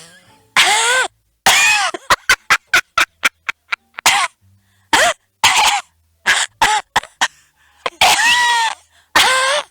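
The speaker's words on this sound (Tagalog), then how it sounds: "Ubo kayo ng ubo eh" Repeated harsh coughing: a few heavy coughs, then a rapid burst of short hacking coughs, then more heavy coughs, loud and close with no talking.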